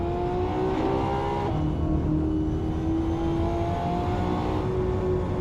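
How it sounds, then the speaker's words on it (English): A Ferrari in Assetto Corsa drones at steady high revs, its exhaust note loud and continuous with slight pitch shifts, no voices over it. "You can hear the exhausters busting some shots right there."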